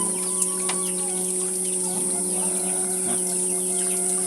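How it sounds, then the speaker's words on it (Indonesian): Chickens cluck softly in short, scattered bursts amid a steady hum and faint chirping, somewhat distant and low in level, near a goat pen in a Sundanese village in West Java. "Ada ayam juga Baraya nih."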